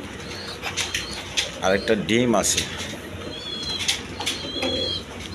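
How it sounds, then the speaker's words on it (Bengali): A pair of Masallam pigeons in a coop coo softly while a short burst of wing flapping and scuffling sounds close by, and someone talks over them. "এখানে এক পেয়ার মসল্লম কবুতর আছে, দেখেন"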